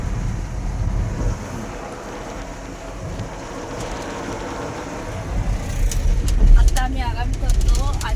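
Steady road rumble and wind noise from a car cruising along a highway between Bhandup and Akluj, a loud continuous drone that swells toward the end, with people talking over it.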